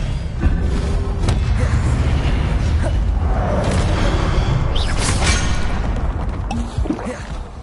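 Confringo blasting spell explosions in the wizarding game Hogwarts Legacy: loud, rumbling blasts and whooshes over a constant roar of combat, with bursts around the middle and end.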